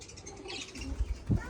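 Pigeons coo in a loft, low soft cooing bursts close by near the end over a steady background hiss.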